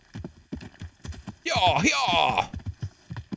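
Rhythmic clip-clop of horse hooves in a video game, steady and close throughout, with someone talking briefly and a louder burst of game sound in the middle.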